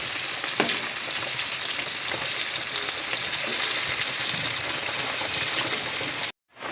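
Hilsa fish frying in hot oil in a kadai, a steady close, loud sizzle and crackle that runs unbroken before cutting off abruptly near the end.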